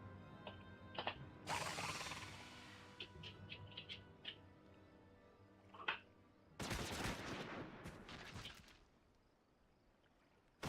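Pistol shots from a character firing on enemies in Final Fantasy XIV, a rapid burst of sharp mechanical cracks followed by a dense louder volley, with scattered clicks and game effects around them.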